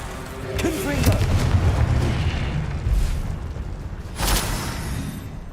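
Confringo blasting spell in Hogwarts Legacy, a deep booming explosion with a rumbling roar that lingers, followed by a second sharper burst near the end.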